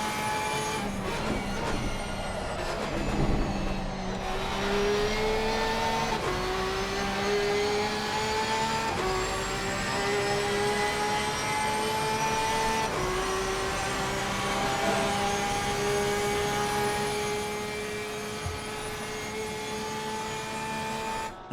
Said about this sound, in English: the glorious, glorious sound of that flat 6 engine the Porsche 911 is so well known for